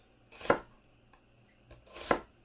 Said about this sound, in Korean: 양파는 갈지 않고 썰을 거예요.